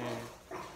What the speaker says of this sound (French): ce que vous entendez, c'est les chiens autour de moi